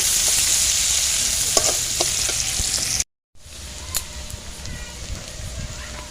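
Ginger paste frying in oil, with a spoon scraping and stirring. The sizzle breaks for a brief silent gap, then resumes with more stirring.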